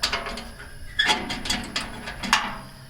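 The valve on an antique Coleman 400 series lantern is unscrewed, making a few quiet, close ratcheting metal clicks and small turning sounds spread over a few seconds, with no speech.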